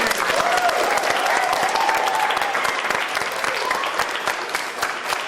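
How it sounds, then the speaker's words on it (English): A crowd gives a round of applause for Henry Winkler, a full, steady clatter of many hands with brief voices faintly heard early on beneath the clapping. "Round of applause for Henry, don't we?"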